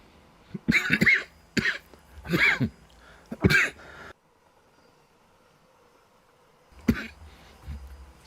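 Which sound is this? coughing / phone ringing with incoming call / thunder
coughing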